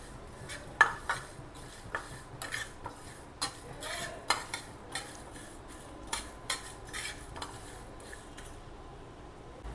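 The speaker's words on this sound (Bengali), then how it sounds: "দিয়ে এগুলোকে একটু একটু হালকা ভাজা ভাজা করে নেব" Dry red chillies lightly frying in a pan while being stirred, with a steady run of sharp utensil clinks and scrapes against the metal over a faint sizzle, no voices.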